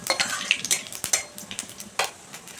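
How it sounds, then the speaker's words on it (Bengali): Whole spices — a cardamom pod, two dried red chillies, a bay leaf and fennel seeds — stirred in hot oil over low heat, with scattered light scrapes and clinks of a spoon against the pan over a faint sizzle. "অল্প আঁচে একটু লাড়াচাড়া করে নিচ্ছি।"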